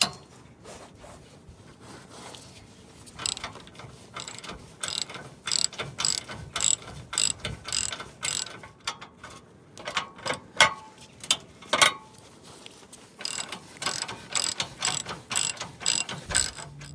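Close, bright ratcheting clicks come in quick repeated bursts as a hand ratchet loosens crash bar bolts on a 3rd Gen Toyota 4Runner, with brief gaps between strokes.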